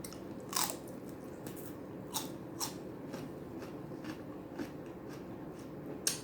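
Celery sticks and air-fried chicken wings are eaten close to the mic, with a few sharp, crisp bites and crunches spaced irregularly over a steady low background, without talking.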